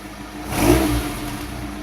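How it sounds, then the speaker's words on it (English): A 1985 Ford Capri engine, warmed up and fitted with a bike carburettor, idles, then revs up briefly and settles back down to a steady idle without spluttering, close by. "The revs rise and drop really nicely without spluttering"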